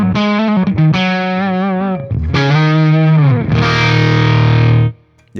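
Electric guitar playing single-note lines through a Synergy TDLX amp module with a Syn20IR, thick and heavily distorted with sustained, bending notes and a brief pause before a long held note, no talking.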